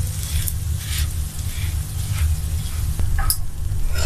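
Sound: spicy egg pancake frying in a pan

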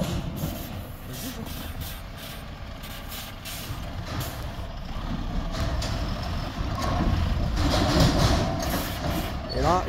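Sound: truck reversing with beeps and air brakes

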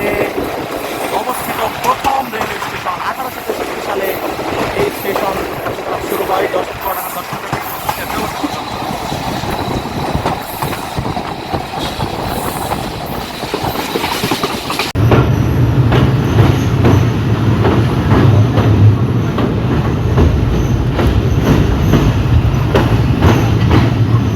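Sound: Nakshikantha Commuter local train arriving at platform

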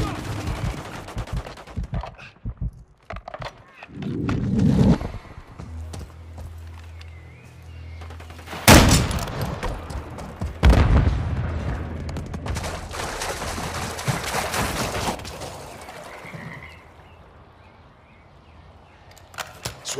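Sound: gunfire and explosions in the video game Call of Duty: Modern Warfare

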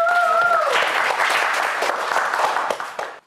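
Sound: studio audience applause on quiz show

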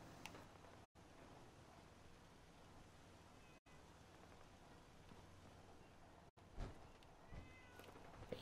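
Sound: released cats meowing in a video game

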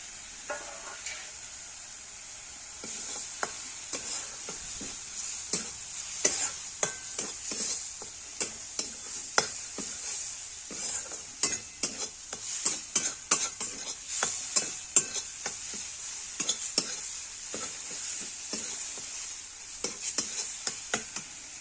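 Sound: masala roasting and stirring in a pan for salted bitter gourd

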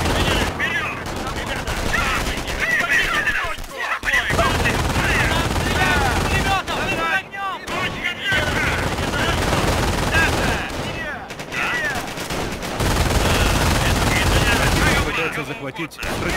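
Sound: machine gun fire in the video game Company of Heroes

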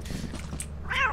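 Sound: cat meowing in a video game

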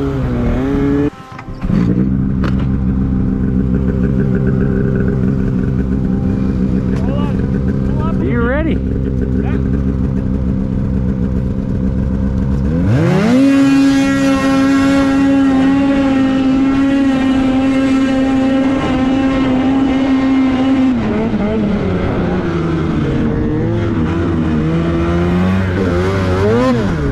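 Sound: Polaris Boost and Khaos 850 snowmobiles drag racing

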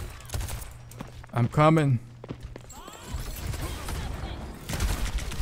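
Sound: Baptiste shooting at enemies' feet in Overwatch 2 video game

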